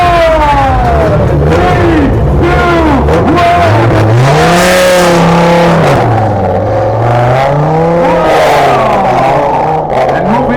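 A modified race car launches down a speedway lane, its engine loud and close, revving hard through sweeping rising and falling pitch as it pulls away, with no talk over it.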